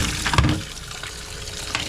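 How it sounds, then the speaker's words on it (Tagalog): Water is poured into a cooking pot that holds meat, a short gushing splash followed by a softer trickle, close up and with no talk. "lagyan natin to ng tubig"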